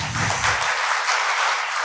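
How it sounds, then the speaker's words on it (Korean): An audience at a presentation during a Korean forum on road ledger management breaks into applause, a dense, steady wash of many hands clapping at moderate loudness with no talk over it. "박수 부탁드리겠습니다"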